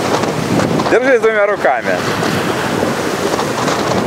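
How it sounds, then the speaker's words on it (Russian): Wind and sea wash roar steadily around a boat at sea as a big wave approaches, with a voice speaking briefly over the constant noise. "Вон идет большая волна."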